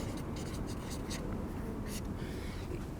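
A pen moves across paper while someone makes an illustration, producing soft, scratchy strokes in short irregular bursts, close up and fairly quiet over a low background hiss.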